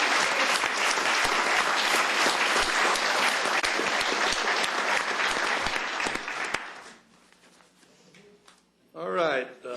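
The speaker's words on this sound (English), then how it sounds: "Let's give her a round of applause." Loud, dense applause fills the commissioners court for several seconds, then tapers into scattered claps and quiet. A voice begins speaking near the end.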